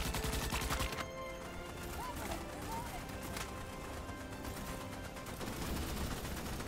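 Rapid bursts of gunfire from shooting alien bugs in Starship Troopers: Extermination ring out steadily over dense, chaotic game noise, loudest at the start and end.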